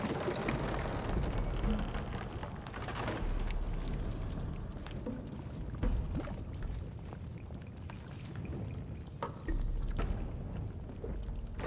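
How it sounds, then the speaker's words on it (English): Oil pours after a lever is pulled in Shadow of the Tomb Raider, a steady liquid wash and splatter that runs for the whole stretch, with scattered splashing hits, and no one speaking. "Pull the lever to bring us some oil."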